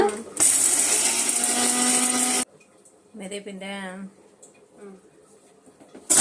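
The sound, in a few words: mixer grinder grinding mustard, fenugreek and coriander seeds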